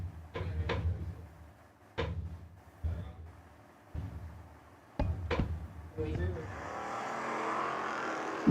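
Camaro footbrake drag race car making its pass at a drag strip, heard as a series of short sharp bursts spaced about a second apart before a sustained, rising engine roar takes over at the end.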